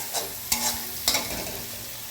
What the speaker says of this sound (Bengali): আমরা আরেকটু রসুন বাটা দিয়ে নিলাম, দিয়ে মশলাটা কষাবো আমরা